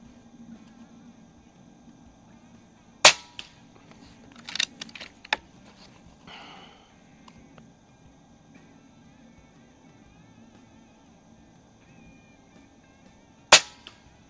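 An Air Venturi Avenger air rifle firing slugs gives two sharp, loud cracks about ten seconds apart, with softer mechanical clicks and handling noises between them over a quiet outdoor background.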